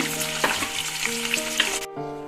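Paneer fries in a kadai with a steady, loud sizzle that holds throughout and suddenly drops off near the end, with background music playing underneath.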